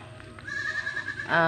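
Goat in a backyard vegetable garden giving a short, loud bleat near the end of a brief clip, preceded by faint low background noise.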